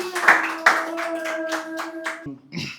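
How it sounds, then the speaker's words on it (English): A handful of distinct hand claps at a baking business workshop, roughly evenly spaced and fairly close, ringing over a sustained tone before a brief final burst of noise. "round of applause for David."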